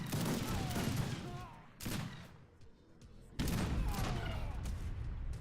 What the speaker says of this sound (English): Mule artillery now firing